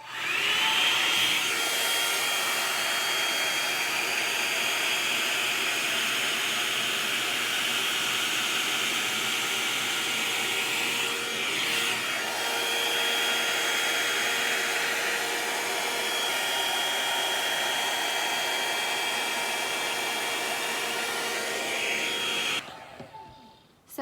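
A Joyyum hot air brush fitted with its straight brush attachment runs on mostly dry hair, giving a steady, loud blowing whoosh close to the mic that holds for about twenty-three seconds before cutting off.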